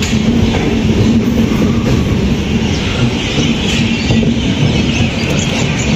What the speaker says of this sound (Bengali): ট্রেনটা তার ছেড়ে দিল তার ডেস্টিনেশন হাওড়ার উদ্দেশ্যে রাইট টাইমে